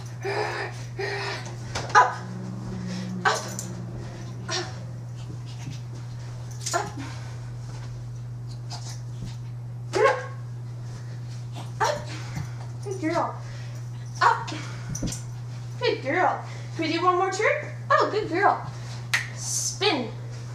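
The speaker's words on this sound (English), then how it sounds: "there's my dog Moxie" A Shih tzu terrier mix dog gives a few short yips and whimpers scattered between a woman's speech, over a steady low electrical hum in an indoor room.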